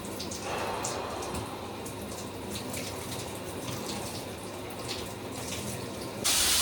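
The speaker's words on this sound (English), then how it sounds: "the bath's running right now" Water runs steadily from a tap into a bath, a continuous broadband rush of filling water that holds even and close throughout, with a brief louder surge right at the end.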